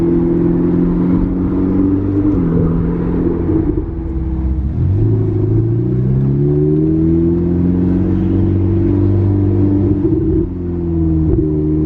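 Ferrari engine with an exhaust valve system, loud and steady, its low rumble rising and falling in pitch through several revs, heard close and alone without talk.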